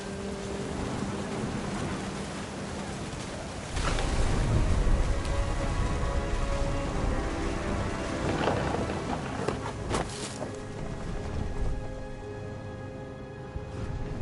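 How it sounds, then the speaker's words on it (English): A thunderstorm in What Remains of Edith Finch: steady heavy rain hisses throughout, swelling louder partway through, with low rumbles of thunder rolling underneath and no voices. "The thunder sounded much too close and full of angry power."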